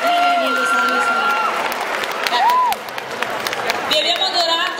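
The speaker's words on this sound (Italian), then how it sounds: "Sono lì, sono lì, sono gli applausi." Audience applause at an award ceremony at a convention, a short stretch of clapping and crowd noise mixed with voices and a whoop, continuing under the talk.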